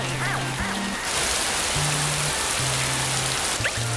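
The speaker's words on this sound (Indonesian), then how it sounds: "Hujan semakin deras." Heavy rain in a children's cartoon pours down as a dense, constant hiss, loud and even, with brief tonal musical notes and cartoon effects layered over it.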